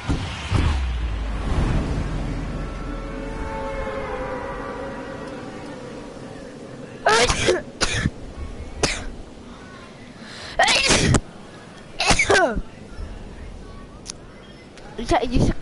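A person sneezes during online gameplay: several sharp, loud bursts spread across the stretch, following a span of low rumbling game noise, with voices chatting around them.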